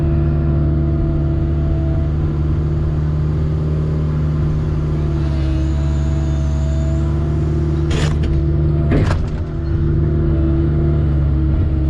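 Skid steer loader engine running steadily while backfilling a house foundation near a ski mountain, a loud continuous low rumble with two brief bursts of louder mechanical noise partway through.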